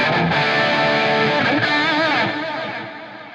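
Heavily distorted electric guitar played through a Tonex One pedal running a tone capture, a loud sustained chord with high gain that slowly rings out and fades.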